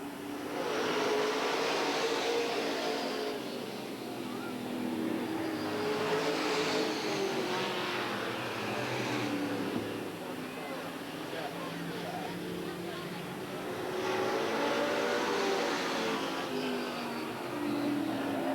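Super stock race cars battle around the Eugene Speedway oval, engines roaring in a continuous swelling and fading drone as the pack passes, loud and steady under an announcer's running commentary.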